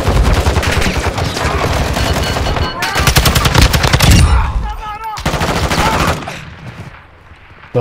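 Heavy automatic gunfire in the video game DMZ, loud rapid machine-gun bursts close by with short pauses between, and a player's voice briefly heard.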